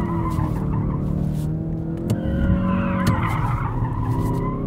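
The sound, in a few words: Ford Focus RS drifting, tires skidding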